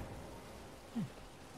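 Steady, faint rain falling in the video game Elden Ring, a continuous soft hiss with one brief low swell midway.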